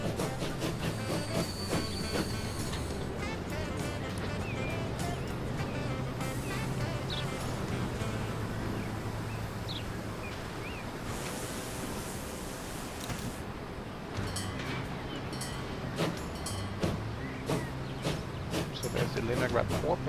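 A locomotive in the railway simulation game Transport Fever 2 rumbles steadily with faint rhythmic clacking, its quiet rolling sound continuing through the full length alongside a light background music bed.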